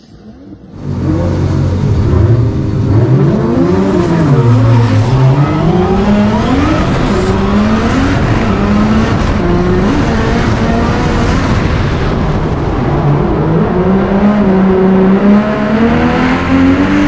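Drift cars race flat out around the final corner at a Hi-Tec Drifting event in Queensland, with loud, sustained engine roar rising and falling through revs and gear changes, plus tire squeal, up close for the whole stretch.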